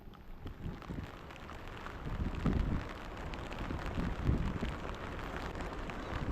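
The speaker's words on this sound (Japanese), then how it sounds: "雨が厳しくなってきました。" Heavy rain falls on a fishing pier right after a typhoon, a steady wash of hiss and patter that swells a little in places, fairly quiet and constant with no speech.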